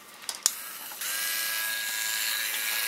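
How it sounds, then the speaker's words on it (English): A small drill bores holes in a plastic part of a Polar Lights 1:350 Klingon K'Tinga battle cruiser model kit, giving a steady high whine that starts abruptly after a few light clicks and runs continuously, close and alone. "So I can just go ahead and drill all these out after all"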